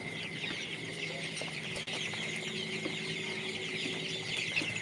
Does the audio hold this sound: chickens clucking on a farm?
yes